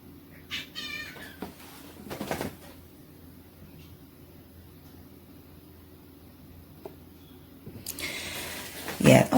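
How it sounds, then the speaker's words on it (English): A cat acting up in a room, with a few meows and a caterwauling cry near the start, a short louder outburst around two seconds, then a quiet stretch before more harsh vocal noise at the end. "that was my son's cat."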